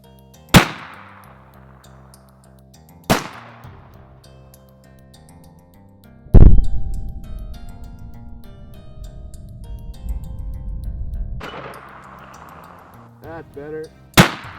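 Three sharp 300 Blackout gunshots fire into a gel block outdoors, spaced apart, each a loud, close crack with a fading ring; a long rumbling passage sits between them, and a few quicker clicks and pops come near the end.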